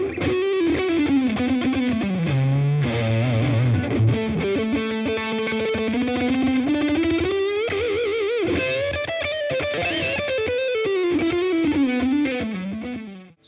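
An FGN NLS10RFM electric guitar plays a sustained, distorted melodic lead through a Laney CUB Super 12 combo amp, with reverb and compression in the effects loop, loud and alone for the whole stretch.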